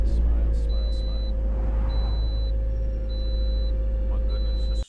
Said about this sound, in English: Oh my goodness, this truck is loud.